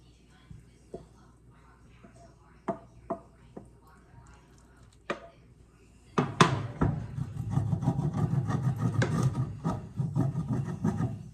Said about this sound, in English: we're just gonna scrape that all off into the plate, into plate bowl